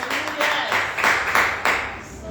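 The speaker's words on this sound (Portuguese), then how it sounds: "Aplauda Jesus por mais isso." During a Sunday church service, the congregation breaks into rhythmic applause, a run of loud, evenly spaced clap bursts filling the room, with voices underneath.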